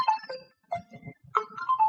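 A telephone ringtone plays a short electronic melody of bright tonal notes in two phrases with a gap between, moderately loud and alone, indoors during a church sermon.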